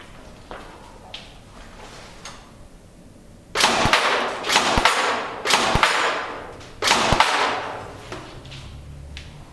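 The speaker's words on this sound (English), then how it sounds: "Let's shoot this thing." A Tokyo Marui AA-12 airsoft shotgun fires several sharp snapping shots at cardboard, each a crisp crack with a short burst after it, fairly close, following a few quieter clicks and handling sounds.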